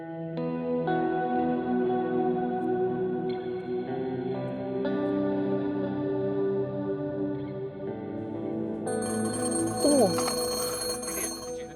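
A telephone rings in a muffled, echoing indoor space, its tone sustained and layered with reverb for several seconds before a brief rising electronic chirp near the end; no talking is heard.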